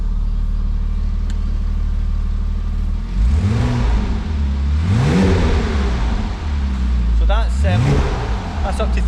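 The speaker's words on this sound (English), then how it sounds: "we'll give it a little rev" Revving from a cold 2.7-litre Porsche Boxster 987 with a manual gearbox, heard close: a steady idle, then two swelling blips that climb and fall back, the second shorter, with a faint voice nearby.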